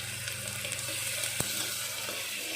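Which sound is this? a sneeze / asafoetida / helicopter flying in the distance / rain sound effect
asafoetida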